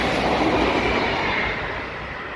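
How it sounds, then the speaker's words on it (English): A train passes close by at night with a loud, broad rumbling roar of rolling rail cars that stays steady and then slowly fades as it moves off, with no voices. "we had the very small issue of a train passing by every 20 minutes"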